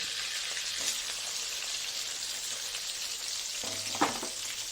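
Onion dropped into hot oil already tempered with bay leaf and whole garam masala for a chicken dish, giving a bright, even hiss of frying with a couple of louder crackling bursts.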